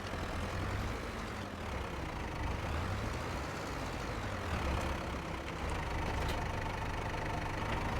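A 105-horsepower tractor engine runs at a steady idle, a continuous close, low rumble with a faint knock and no talking.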